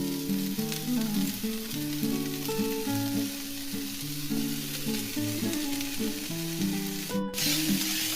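Capsicum and mixed vegetables for veg fried rice sizzle steadily in a hot pan while being stirred, a continuous close crackle under background music, with a brief scraping clatter near the end.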